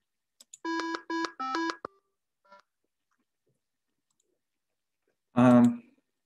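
A Micro:bit playing a programmed melody that includes a G in the third octave: three short, buzzy electronic beeps in quick succession, faint clicks, then a lower tone after a pause, all thin and fairly quiet.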